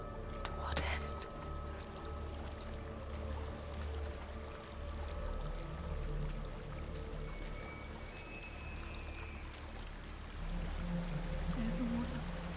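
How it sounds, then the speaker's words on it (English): Soft, continuous rushing water from a waterfall in Hellblade: Senua's Sacrifice, a distant steady wash with faint murmuring voices drifting in and out beneath it. "There's a waterfall."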